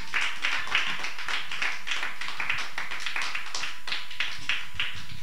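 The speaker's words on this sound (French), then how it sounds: "Est-ce qu'on peut acclamer la parole de Dieu?" A church congregation claps in steady, rhythmic applause, a full room of hands beating together continuously and loudly throughout, with no voices rising above it.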